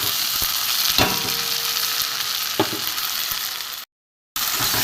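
Drumstick leaf paste with crushed dried chilli and salt sizzles and fries in a pan, a steady close crackle with a couple of scraping stirs and a brief dropout near the end.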